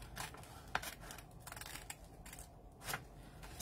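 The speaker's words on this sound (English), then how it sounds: "So this here, we're going to cut it this way." Scissors cutting through a paper file folder, a series of quiet, close snips and rustles at an uneven pace.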